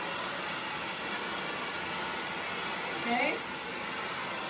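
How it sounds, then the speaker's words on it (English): A blow dryer roars steadily while hair is styled with a round brush for smoothness and a slight curl. The loud, constant airflow fills the whole stretch, and a voice speaks briefly over it. "Pull the blow dryer away."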